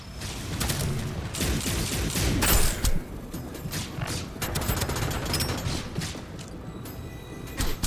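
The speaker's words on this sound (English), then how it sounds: "A lot of bullets. Oh, it's a lot of bullets." Heavy gunfire in the video game Deadzone: Rogue, rapid overlapping bursts and repeated shots rattling almost continuously, with brief voices mixed in.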